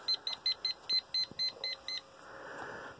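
A refrigerant leak detector gives a series of about ten short, evenly spaced electronic beeps over two seconds, followed by a fainter steady hiss; no one speaks.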